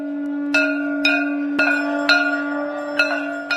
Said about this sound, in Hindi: जैसे ही आरती की आवाज, घंटे, घड़ियाल और शंख की ध्वनि बाहर गूंजी